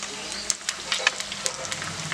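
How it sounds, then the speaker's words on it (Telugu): Potato rice nuggets (bondas) deep-frying in hot oil on a medium-high flame, a steady close sizzle with scattered crackling pops and bubbling throughout, no talking. "అన్ని బొండాలు అనేవి వేయించుకోవాలి"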